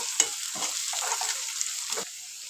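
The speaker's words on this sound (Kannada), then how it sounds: "ಎಣ್ಣೆ ಕಾದಿದೆ ಈರುಳ್ಳಿನ ಹಾಕೊಳ್ಳೋಣ ನೋಡಿ ಇದು ಇವಾಗ ನಾವು ಫ್ರೈ ಮಾಡ್ಕೋಬೇಕು" Onions frying in hot oil give a soft, airy sizzle up close, punctuated by several distinct scraping stirs from a spatula, with no voices.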